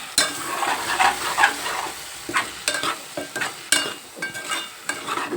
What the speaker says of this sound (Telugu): మనం ఉప్పు కారం వేసాం కాబట్టి ఇప్పుడు బాగా కలుపుతాం